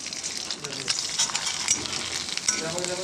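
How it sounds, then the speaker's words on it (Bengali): Homemade rice and sago papad frying in a very hot wok (kadai), a steady close crackling sizzle with sharper pops scattered throughout. "এবার ভাজবো এই পাঁপড়টা।"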